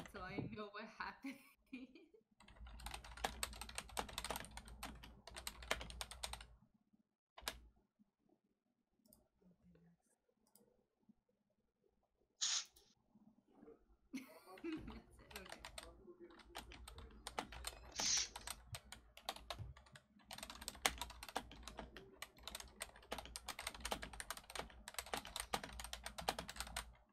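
Rapid typing on a computer keyboard during a tabletop Dungeons & Dragons 5e session, dense bursts of clicky keystrokes in long runs with pauses, mixed with people talking in the background.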